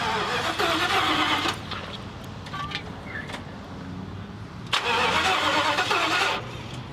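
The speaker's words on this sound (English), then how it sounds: "so we're ready to try to spin it over, see if it starts." A 2017 Thor Vegas motorhome engine cranks over on jump boxes, a steady mid-pitched churning in two loud bursts with a quieter stretch between, close by and with no talk over it.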